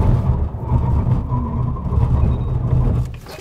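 TOGG T10X car in a hard brake test, a loud low rumbling road and tyre roar from up close that fades away as the car comes to a stop, with no talk.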